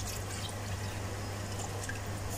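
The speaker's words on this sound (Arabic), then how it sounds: "هزود شويه ميه بقى" Water is poured into a tray of rice as it cooks, giving a steady, even trickle and splash under a low constant hum, with no pause across the whole stretch.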